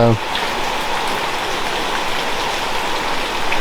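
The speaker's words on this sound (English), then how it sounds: "But yeah, it's raining again." Steady rain falls in a dense, even hiss of drops on surfaces, continuous and fairly loud, with no clear talking heard over it.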